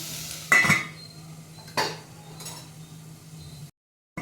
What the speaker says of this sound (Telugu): మూత పెడతాము.